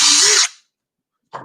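A power drill bores a pilot hole into a wooden picture frame in one loud burst of about half a second, spinning briefly and then cutting off. A short faint knock follows after a silence.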